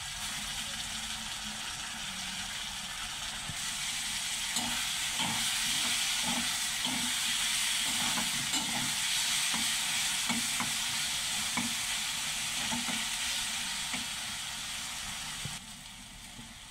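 Grated garlic, ginger and onion sizzle in hot oil under a steady hiss, while a spoon stirs and scrapes the pan in irregular taps, close and quiet with no voices.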